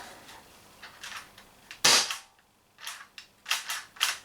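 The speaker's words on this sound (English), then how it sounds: "It shot all 8 shots before it was out of CO2 gas." An Umarex TB68 CO2-powered airgun fires a quick series of sharp, crisp shots close by, about seven cracks with uneven gaps, one much louder than the rest, with no talking.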